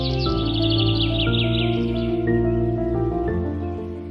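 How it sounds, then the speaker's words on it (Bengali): Mynas, doves and sparrows call from trees in a village bird sanctuary, a loud, close, continuous mix of overlapping chirps and tweets with no voices. "গাছে গাছে শালিক, ঘুঘু, চড়ুই পাখির কিচিরমিচির শব্দে এলাকা মুখরিত"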